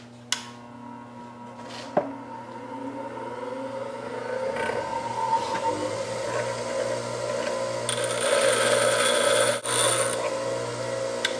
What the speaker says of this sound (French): Donc juste un petit coup de grinder vite fait